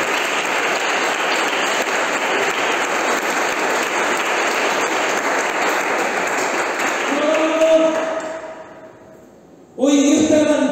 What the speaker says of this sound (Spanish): Den un fuerte aplauso al querido